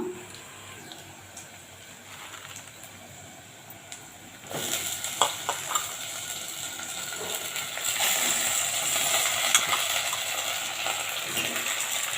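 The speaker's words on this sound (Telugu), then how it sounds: "ఇప్పుడు ఇందులోకి మనం శుభ్రంగా అంతా ఒలిచి కట్ చేసి కడిగి పెట్టుకున్న పాలకూరను వేసేస్తున్నాను" Chopped, washed spinach goes into a hot pan for spinach dal, bringing a rise in sizzling hiss with a few clattering knocks of utensils, steady and close with no talk.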